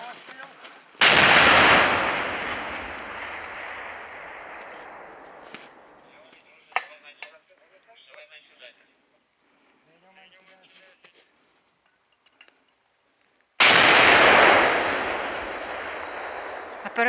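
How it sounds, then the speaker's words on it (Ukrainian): Soldiers fire a grenade launcher or mortar in heavy fighting against an assault group: two loud, close booming shots about twelve seconds apart, each with a long fading rumble, and quiet voices and small movements between them. "Бійці наводяться, дають команду «Постріл»."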